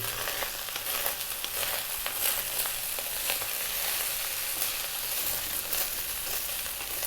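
Rice for pork fried rice sizzles steadily in a hot pan, with a constant bright crackle and occasional stirring scrapes. No voices.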